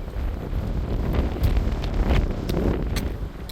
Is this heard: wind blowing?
yes